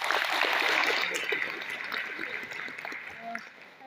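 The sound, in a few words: audience applause at an RCM business meeting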